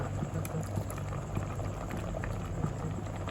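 A pot of Thai khi lek curry with beef skin simmers at a steady bubbling boil, a continuous close wash of churning liquid with no talk.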